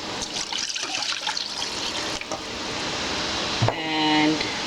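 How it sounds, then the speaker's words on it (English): Water poured into a peanut soup mixture in a pot, a steady close pouring trickle running for a few seconds before a short clatter and a tonal ring. "So I'm gonna add some water in here."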